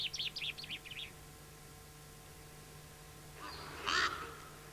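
Birds call in a pine forest on La Palma in the Canary Islands, including the common chaffinch: a quick run of high chirps at the start, then quiet, and a louder burst of calls near the end.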